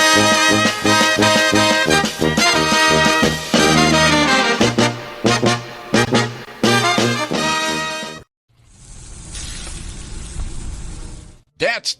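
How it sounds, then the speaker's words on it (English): Dry-aged USDA Prime Wagyu and Angus steaks sizzle with a steady, hissing crackle for about three seconds. Loud music plays before it, and no one speaks over the sizzle. "That's the sound of sizzling, dry-aged USDA Prime Wagyu and Angus steaks"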